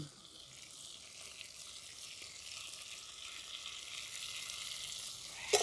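Tomato and onion fry in a pan with a paste of ginger, garlic and coriander stems. A soft, even sizzle hisses throughout, and a brief clack comes at the end. No one speaks.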